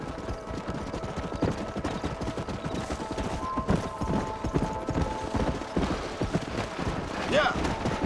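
Horses' hooves clip-clop steadily in the Red Dead Redemption video game, a dense, rapid galloping rhythm with mechanical rattles, under a close layer of game noise.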